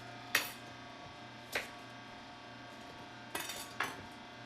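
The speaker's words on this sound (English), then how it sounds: "gotta cut it with my lovely ceramic knife" A ceramic knife cuts an apple on a board in a kitchen, giving four sharp, separate knocks and clicks spaced irregularly over a quiet hum, close and crisp with nothing else around.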